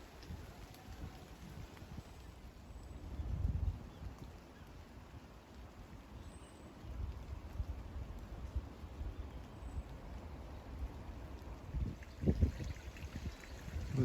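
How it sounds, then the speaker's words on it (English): A garden rill flows steadily through a garden in March, a soft continuous wash of running water with no one talking, rising slightly near the end. "With the sound of the rill busy rilling in the background"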